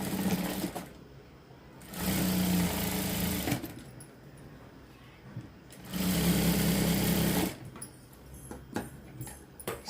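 Sewing machine stitching tucks on a large-size blouse, two close, loud whirring runs of a couple of seconds each, separated by quieter handling of the fabric.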